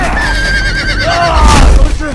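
A horse whinnies loudly in the Game of Thrones Telltale video game, a sharp rising and falling neigh lasting about two seconds, close and prominent.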